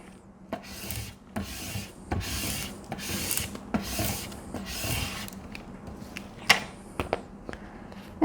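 Repeated rubbing and scraping strokes as transfer tape for a Halloween craft is burnished front and back, close and dry, in short uneven bursts with brief pauses and a few sharp taps.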